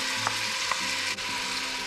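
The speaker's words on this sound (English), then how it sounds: "In my oil and ghee, I'm adding onions," Onions frying in hot oil and ghee give a soft, steady sizzle, with a couple of faint stirring clinks near the start.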